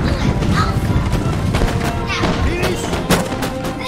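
Musket volleys from infantry in the video game Total War Napoleon crackle in rapid, overlapping bursts with heavy booming thumps, loud and close, while a voice talks over the gunfire.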